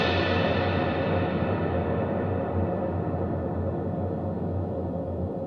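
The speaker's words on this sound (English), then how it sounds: "This one allows 70 seconds of delay." Electric guitar run through a delay pedal set to a 70-second repeat time, a sustained smeared ambient wash that holds steady and slowly darkens as the repeats trail on, with no playing attack heard.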